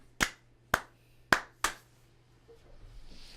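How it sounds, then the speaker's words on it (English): Four slow, deliberate hand claps ring out one at a time with clear pauses between them, close and fairly quiet, followed by a faint murmur. "Yeah, slow clap."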